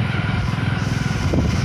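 A motorcycle riding on the road, its engine giving a loud steady close throb with wind rush.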